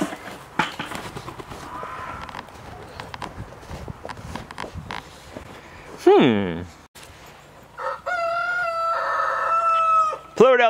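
A Polish rooster crows loudly twice, the second a long drawn-out call, amid scattered clucking from hens and a voice speaking earlier.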